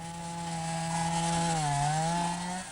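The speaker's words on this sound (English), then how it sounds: "They're slicing the recently living timber into suitable lengths for the slow burning process" A chainsaw cuts freshly felled timber into lengths for charcoal burning in Africa, a steady, loud droning whine that dips in pitch midway as the blade bites, then recovers, with no voices.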